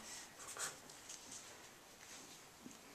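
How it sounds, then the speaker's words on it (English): A pen writes on paper while working through a calculation, giving faint, close scratchy strokes that run steadily throughout with soft bursts of pen movement and no talking. "I like to write it down"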